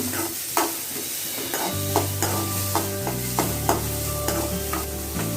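Chopped onion and green chilies split in two fry in a pan with a steady sizzle, punctuated by regular scraping strokes of a spoon stirring them close up.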